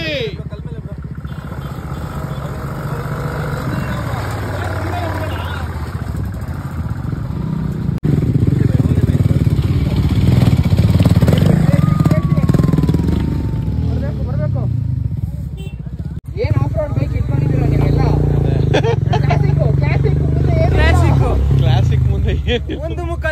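Off-road motorcycle climbing a steep hill trail near a Kalasa homestay, engine revving and straining up and down with clattering, excited voices shouting and talking over it.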